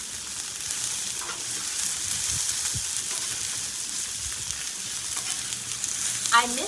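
Broccoli frying on a Blackstone griddle for chicken fried rice, a steady close sizzle with scattered pops and a brief scrape of stirring near the end, no talk.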